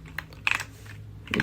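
Quick keystrokes on a computer keyboard while writing code, a few close, light clicks in an uneven burst with a low hum underneath.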